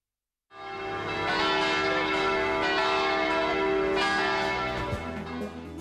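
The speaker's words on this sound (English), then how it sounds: "Church bells would toll to summon worshippers." A large cast bronze church bell tolls once, striking sharply and then humming with a rich sustained ring that slowly fades over several seconds, heard alone without voices.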